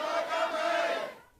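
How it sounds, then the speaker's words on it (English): Hong Kong protesters chant together inside a shopping mall, a single sustained crowd shout that carries loudly and echoes, then fades abruptly at the end. "Protesters targeted several malls today, marching and chanting "Free Hong Kong.""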